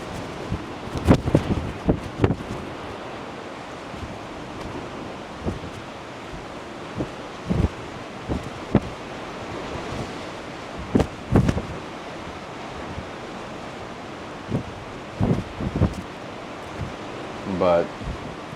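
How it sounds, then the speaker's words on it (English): Strong wind buffets the microphone on the open deck of the Utopia of the Seas cruise ship, with waves and spray as the hull plows through the sea, heard as a broad rushing roar broken by repeated loud gusts. "you guys probably hear the wind"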